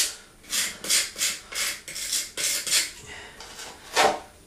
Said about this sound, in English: I'm just going to take a little bit with my putty knife. I'm just going to wipe it in those seams, in those joints.